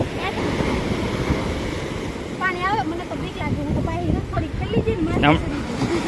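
Continuous wash of high-tide sea surf and wind noise fills the shore at Zanzmer, with people talking and calling over the rushing water.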